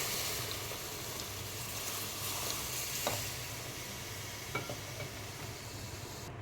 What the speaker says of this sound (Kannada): ಸ್ವಲ್ಪನೇ ಹಾಲು ಹಾಕ್ಕೊಂಡು ಚೆನ್ನಾಗಿ ಗಂಟಿಲ್ದಂಗೆ ಚೆನ್ನಾಗಿ ಮಿಕ್ಸ್ ಮಾಡ್ಕೊಳ್ಳಿ